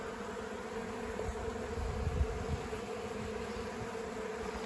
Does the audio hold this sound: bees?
yes